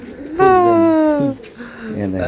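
Swan pigeons kept caged for sale give a short, close cooing call with a rising then falling pitch, followed by a softer second coo, with someone talking nearby.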